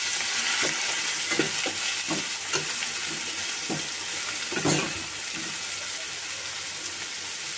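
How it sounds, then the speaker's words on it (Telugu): Sliced onions salted with coarse salt fry in a pan with a steady loud sizzle while a spoon stirs them, giving several scraping knocks against the pan. "వేసాం కదా, మొత్తం ఒకసారి కలుపుకుందాం."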